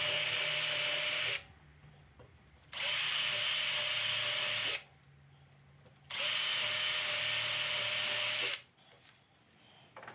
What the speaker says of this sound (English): I then drilled the holes